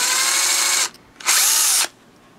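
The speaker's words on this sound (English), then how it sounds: "I actually grew a brain and decided to drill this one all the way through" A power drill bores through bottle caps for a homemade fishing lure in two loud, steady high-pitched bursts, one a little under a second and one about half a second, with a short pause between them.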